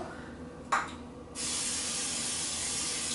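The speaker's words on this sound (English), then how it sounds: "I'm just gonna spray it with a little bit of olive oil" A brief spritz of olive oil from a spray bottle, then a steady hiss and sizzle as the oil hits a hot grill pan.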